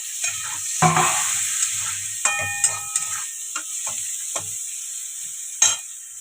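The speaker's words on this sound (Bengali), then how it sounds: "লবণটা দিয়ে আমি ভাজতে থাকবো" Vegetables for fried rice fry with salt in a pan, a soft sizzle broken by repeated sharp clinks and scrapes of a utensil stirring against the metal.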